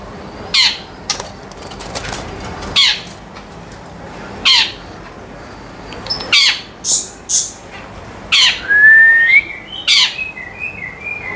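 Birds at a bird kiosk selling forest magpie-robins give repeated sharp, loud calls and chirps in irregular bursts, with one clear whistled note, all close by.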